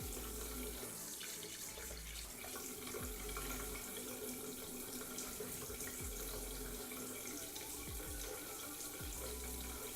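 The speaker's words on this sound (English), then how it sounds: "I'll just use a towel and get it wet, and I will rinse all of this off of my face" Water runs continuously from a bathroom tap as a towel is wetted, a soft steady rush with faint splashes and occasional thuds, heard up close at low level.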